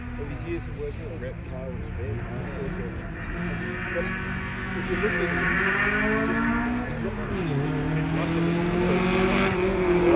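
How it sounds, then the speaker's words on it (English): A Mark 2 Ford Cortina race car at a sprint event, its engine droning steadily and rising in pitch as it revs and accelerates, with a loud continuous note that swells toward the end. "Jonesy, I'll let the engine note give it away to what it is. Just have a listen."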